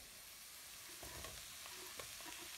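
Onion and mushrooms frying together in a pan, a soft, faint sizzle with a few stirring knocks and scrapes close by.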